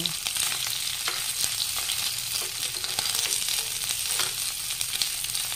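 Garlic sizzling in a pan for beef lung adobo, a steady, dense crackling fry with light scraping and stirring throughout, close and fairly loud, with no voices.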